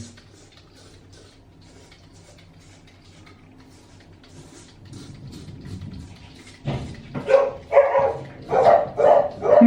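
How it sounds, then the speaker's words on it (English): Quiet room tone with faint ticking gives way to a burst of dog barks partway through, followed by a run of loud, closely spaced barks near the end. "Every time I do these videos, I get dogs, see? They always bark."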